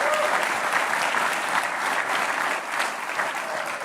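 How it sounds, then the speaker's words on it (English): Audience applause fills the room at a Super Tuesday preview rally with President Trump at Mar-a-Lago, a dense, steady clapping that holds for several seconds without speech over it. "That's a nice applause for that."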